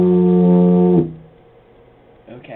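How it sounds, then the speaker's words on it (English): A tuba sounds one loud, sustained low buzzing note for about a second before it cuts off, leaving quiet room noise and a faint rustle at the end. "that's really how a tuba sounds"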